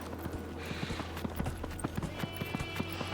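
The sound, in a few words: horse hooves clip-clopping in Dragon Age: Inquisition video game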